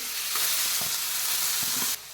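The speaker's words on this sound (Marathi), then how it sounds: "याला आपण असं सतत एकसारखं हलवत राहून थोडं परतून घ्यायचं आहे" Finely grated carrot stirred and sautéed in a pan for carrot halwa, a steady close sizzle broken by soft repeated scraping strokes of the spoon, ending in a sudden drop.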